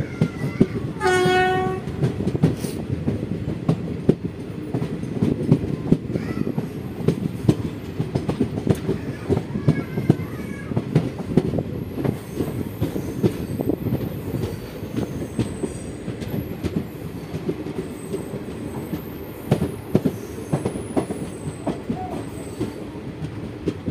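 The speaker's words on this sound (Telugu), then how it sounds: "మన ట్రైన్ చింతల్పల్లి రైల్వే స్టేషన్ నుండి డిపార్చర్ అయింది." The Kakatiya Express pulls out of Chintalpalli railway station: a horn blast sounds at the start, then a steady rumble and clatter of wheels and wagons carries on throughout, with faint squeals.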